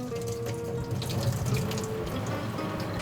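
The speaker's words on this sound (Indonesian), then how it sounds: "Dan kalian bilas pakai air dingin supaya bawang merahnya nggak kemasan." Cold water runs from a tap to rinse soaked shallots, a steady close gush and splash into a sink that holds constant for the whole moment, with no talking.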